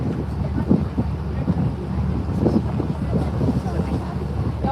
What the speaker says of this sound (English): Here is slowing down the boat.